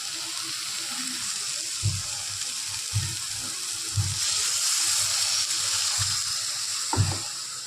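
Water is poured into an onion-tomato gravy cooking with red chilli powder and turmeric for soybean vada curry, giving a continuous splashing pour with soft periodic thumps.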